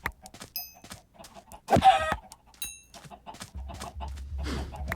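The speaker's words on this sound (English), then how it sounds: "These chickens really should know the price of going out." Chickens in the video game Minecraft clucking in short, scattered bursts, with a louder squawk near the middle and soft game sounds and a low rumble toward the end.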